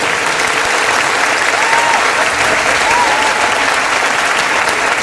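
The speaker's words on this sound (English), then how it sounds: "So let's give them a huge round of applause for their support." Audience applause in a school auditorium at a 4th and 5th grade band winter concert, a steady wash of clapping held at even loudness throughout, with faint voices mixed in.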